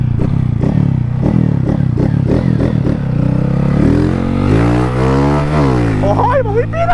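A Honda Fan 160 motorcycle with a silent exhaust runs close and loud, first chugging at a steady low idle, then revving hard with a rising whine that drops and climbs again.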